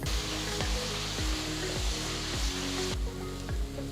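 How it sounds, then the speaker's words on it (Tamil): Finely chopped medium onions sauté in hot oil with spices, browning toward golden; a steady loud sizzle with regular stirring scrapes and clacks about every half second, no voices. "வெங்காயத்தை நல்ல கோல்டன் ப்ரௌன் கலருக்கு வதக்குங்க"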